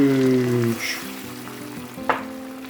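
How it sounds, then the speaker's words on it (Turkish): Rice toasting in a pan for a Turkish eggplant and beef pilaf, with a soft continuous sizzle under a faint tonal hum and a brief clatter near the end. "şimdi pirincimiz kavruldu"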